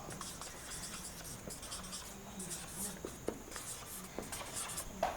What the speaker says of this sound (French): je vais vous écrire ce mot barbare